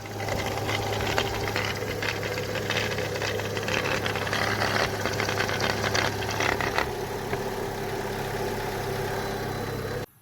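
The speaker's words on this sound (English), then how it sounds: "Customer states engine running rough." A car engine idling roughly with a steady low rumble and faint uneven knocking throughout, running alone without voices before cutting off abruptly at the end.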